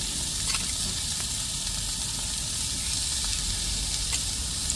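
Carrots sizzle in a hot pan with chillies for a brinjal kuzhambu, giving a steady, close, continuous hiss of frying with faint stirring clicks and no talking.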